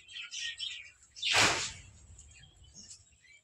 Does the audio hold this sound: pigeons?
yes